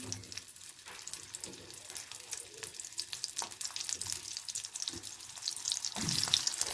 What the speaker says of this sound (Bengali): এবার অল্প করে ভেজে নেব পেঁয়াজ।